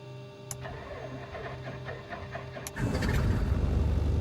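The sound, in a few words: aircraft engine starting in Microsoft Flight Simulator video game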